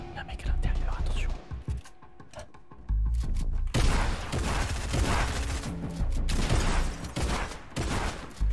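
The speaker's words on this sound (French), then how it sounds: "Ok, il y a des gens qui tirent." Video game gunfire crackles in bursts and a rapid fusillade, loud and dense, with quieter stretches between the shots.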